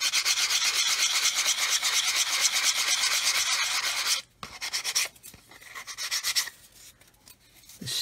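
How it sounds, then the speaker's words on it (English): A worn sanding stick lightly sands a small build surface with steady, close rasping strokes, loud and continuous for about four seconds, then broken into shorter scrubbing passes with brief pauses. "Again, lightly sanding."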